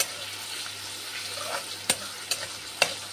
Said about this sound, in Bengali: আমি কড়াইয়ে তেল দিয়ে দুটো পেঁয়াজ কেটে দিয়েছি